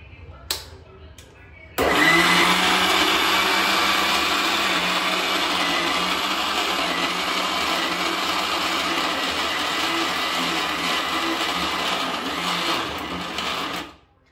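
A kitchen mixer grinder whips cake cream for a homemade New Year cake. It switches on abruptly and runs as a loud, steady motor whine for about twelve seconds before cutting off.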